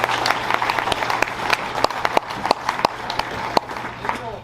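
Banquet audience applauding at a tractor pulling association awards event, a crowd of irregular handclaps filling a room, fairly close and steady for several seconds with no talk over it.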